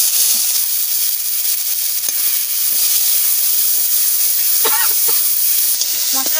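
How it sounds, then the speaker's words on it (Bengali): Spice paste with a split bay leaf fries in hot oil, giving a constant loud sizzling hiss throughout, with a faint voice speaking briefly in the background. "যে মশলাটা বাটিতে, মশলাটা আমি তেলে করে দিয়ে দিচ্ছি।"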